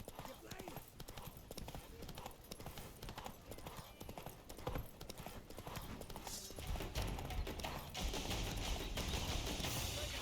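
The horse Roach galloping in The Witcher 3, rapid rhythmic clip-clop hoofbeats throughout, growing louder and denser toward the end, with talking over them.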